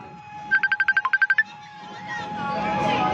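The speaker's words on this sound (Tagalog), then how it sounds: "Yung mga tumatawag sa telepono ko, mamaya na, naka-live ako." A mobile phone ringtone chirps in a rapid run of about ten short, evenly spaced electronic beeps, then stops. It sounds over a background hum at the site of a residential fire in Valenzuela City, with voices in the background.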